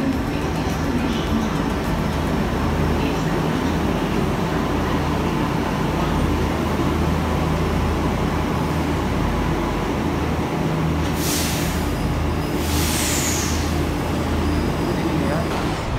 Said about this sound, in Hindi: ये सामने से आ रही है मेरी मेट्रो